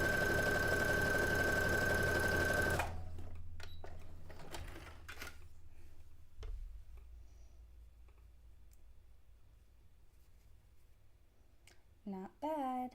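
A sewing machine stitching a fabric test piece runs loud and steady for a few seconds, then stops, leaving faint clicks and handling noises before someone speaks briefly.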